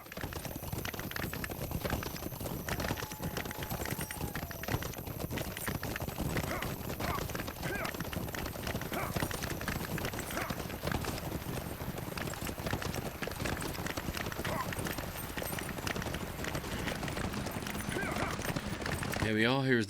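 Horse hooves clip-clop steadily in a video game set in Rohan, a continuous rhythmic trot under dense game ambience and background music, with someone talking over it.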